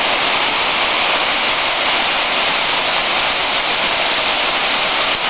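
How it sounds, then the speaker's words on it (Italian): A waterfall at Ferrera di Varese pours steadily, a loud, even broadband rush of falling water with no pauses, filling the scene close by on its own. "La cascata."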